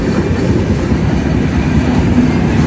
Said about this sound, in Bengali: তো গাইস কতক্ষণ ধরে যাইতেছে ট্রেন,